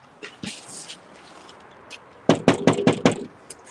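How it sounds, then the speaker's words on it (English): A door is knocked on with a quick series of about five sharp, loud raps, preceded by a few fainter taps and rustles. "All right, knock again."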